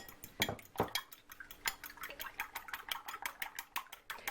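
Two eggs being beaten in a bowl for bean patties, a steady run of quick, light clinks and taps of utensil against the dish, close and fairly quiet, with no talk.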